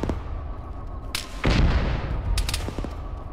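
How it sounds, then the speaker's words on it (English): Gunfire in the military video game Arma in a cold, snowy setting, several sharp reports and a heavier booming shot echoing at mid distance over a steady background rumble, with no talk. "You're getting shot at from the left."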